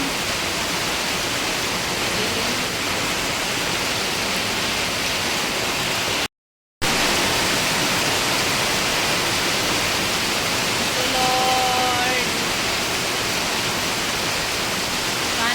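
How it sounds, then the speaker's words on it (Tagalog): Heavy, continuous rain keeps up a loud, unbroken hiss and roar, broken only by a momentary dropout midway, with a faint tonal sound briefly rising above the downpour near the end and no talking. "Sana tuloy-tuloy na po ang ulan."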